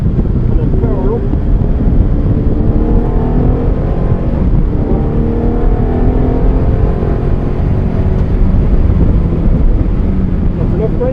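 Fiat car powering up out of a curve on a driving course, a steady broadband engine and road roar with wind buffeting on the microphone, loud and continuous throughout, with voices faintly underneath.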